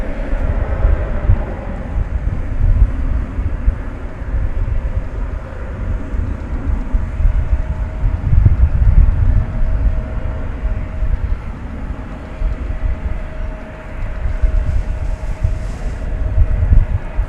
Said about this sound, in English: Got a Delta Airbus A320 coming in from Los Angeles.